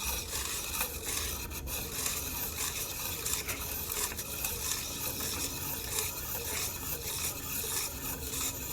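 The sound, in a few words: filing the edge of a piston ring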